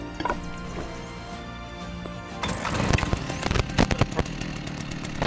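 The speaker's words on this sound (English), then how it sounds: "Let's have a go at a chainsaw." A chainsaw in the survival video game Rust starts up and revs, a harsh buzzing motor that grows louder midway with choppy cutting bursts, heard close with no talking.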